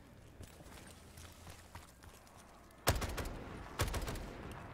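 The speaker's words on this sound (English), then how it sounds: "this AK has a very low rate of fire" An AK rifle fires in a Walking Dead-inspired custom zombies map, with two loud, close bursts of sharp, rapid cracks standing out after quieter, distant shots and footstep-like patter.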